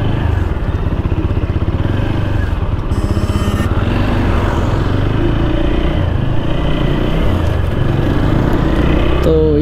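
A motorcycle engine drones loud and close while riding on a rainy road, a steady pulsing throb with slight rises in revs, and a voice may speak faintly underneath.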